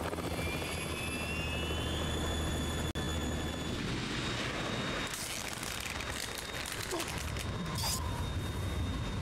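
A Harrier jet in Metal Gear roars as a loud, continuous engine drone with a whining high tone. A sharp click cuts through early on, and the rumble shifts into a rougher, noisier surge partway through.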